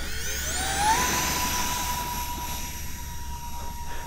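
A 3D-printed twin 40mm EDF model jet flies overhead with a continuous high-pitched ducted-fan whine that rises in pitch, then holds steady over outdoor background noise.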